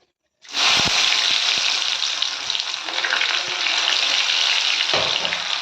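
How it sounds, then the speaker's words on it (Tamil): Onions sautéing in hot oil with cinnamon, cloves and bay leaf for a Tamil chicken kola kuzhambu, a loud steady sizzle that starts abruptly and runs on with a few faint stirring knocks. "இப்போ வெங்காயம் ஓரளவு வதங்கியது"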